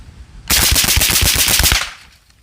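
Galil rifle in 7.62x39 fitted with a Huxwrks Ventum suppressor firing a rapid burst of about a dozen loud, close shots in quick even rhythm, then a short fading tail.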